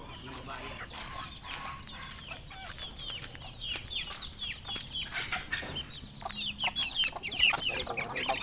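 Chickens cluck repeatedly in short, scattered bursts at moderate distance, with faint talk and a steady background hum.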